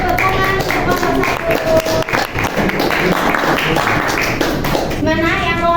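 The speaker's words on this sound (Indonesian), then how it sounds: "Beri tepuk tangan untuk kelompok" Applause for a student group in an Indonesian school classroom: a steady burst of many hands clapping lasting several seconds, with children's voices chattering underneath throughout.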